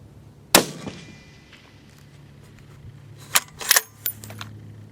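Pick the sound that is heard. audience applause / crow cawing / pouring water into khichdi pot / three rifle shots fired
three rifle shots fired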